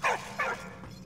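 A dog in the video game Valiant Hearts gives two quick, close barks followed by a softer yip.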